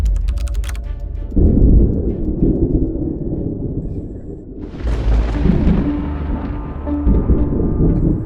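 Thunder from a lightning strike in Bangladesh booms as a loud, deep rumble that swells, then breaks into a sharper crashing burst midway before rolling on.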